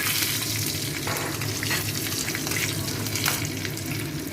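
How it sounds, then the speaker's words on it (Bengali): Neem leaves frying in a pan, a steady close sizzle with faint stirring scrapes running throughout, no voices. "নিম পাতাটাকে ভালো করে ভেজে নিতে হবে"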